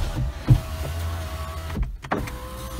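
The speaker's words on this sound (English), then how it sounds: "let's try the electric windows" BMW E-series electric power windows whir and hum under a car's ignition-on background, the motor sound running steadily with a brief dip and resuming, fairly close.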